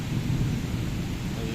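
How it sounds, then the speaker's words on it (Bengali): Thunder rumbling during a heavy rainstorm, a brief low roll over the steady hiss of pouring rain. "বজ্রপাতও হচ্ছে আর কি আকাশে"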